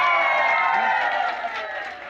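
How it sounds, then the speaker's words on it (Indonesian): Steady applause from a village crowd for two village head candidates at a local election forum, continuous and fairly loud clapping with a faint cheering tone throughout. "kita kasih aplaus lagi untuk kedua calon kita"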